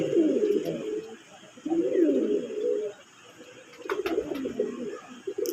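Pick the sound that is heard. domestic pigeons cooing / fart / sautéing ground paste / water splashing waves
domestic pigeons cooing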